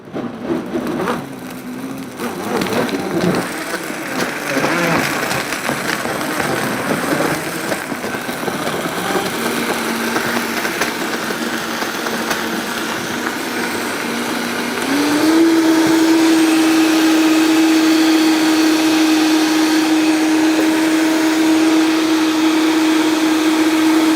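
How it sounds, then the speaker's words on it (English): A blender on its base blends a piña colada smoothie, a loud continuous motor whir with ice and fruit churning. Partway through, the pitch jumps higher and holds steady as the mixture smooths out. "we're going to put it right on our blender base, and we're going to blend it all up"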